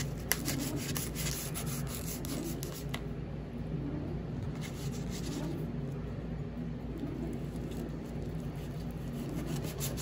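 Knife sawing through a cheesy pizza topped with bacon and spinach, a soft continuous rubbing scrape with brief crisp crunches near the start, close and quiet.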